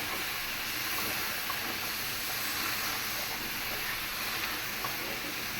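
Spices sautéing with pointed gourd, stalks and potato in a pan give a steady, dense sizzle and hiss that runs unbroken and fairly loud throughout, with no talking.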